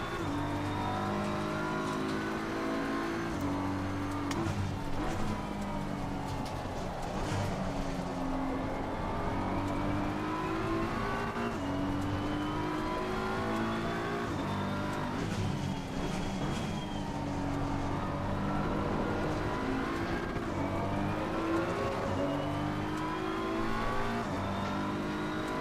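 Ferrari and McLaren GT race cars in Assetto Corsa Competizione roar continuously, their engine pitch climbing and dropping through repeated gear shifts, loud and close throughout.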